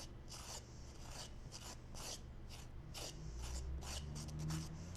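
Plaster-like filler spread with a makeshift tool onto blue foam, giving a soft, repeated raspy scraping at close range with no talking.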